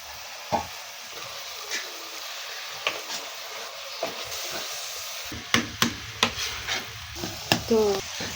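Amaranth leaf curry simmering and sizzling in a pan, a steady soft frying hiss broken by repeated stirring clacks and scrapes of a spoon against the pan, close and clear with no talk.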